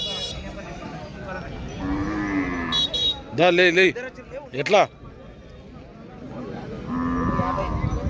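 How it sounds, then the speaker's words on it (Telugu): Large bulls at a Saturday cattle market in Pebbair give loud, drawn-out lowing calls mid-scene, with people talking around them and a busy market murmur. "భారీ సైజు ఎద్దులు."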